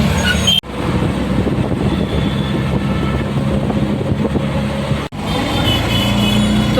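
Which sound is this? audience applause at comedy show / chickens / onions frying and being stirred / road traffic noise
road traffic noise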